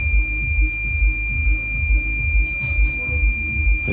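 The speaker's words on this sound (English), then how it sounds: "When I disconnect, it will make alarm." A homemade security alarm sounds when its wire is disconnected, giving a steady electronic tone with a rhythmic pulsing buzz underneath, loud and close throughout.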